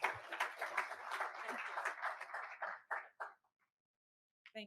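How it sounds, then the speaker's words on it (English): An audience at an Army aviation panel event claps in a dense burst that thins out and stops after about three seconds, followed by a brief silence and a faint voice at the end. "Let's give her a round of applause as she comes."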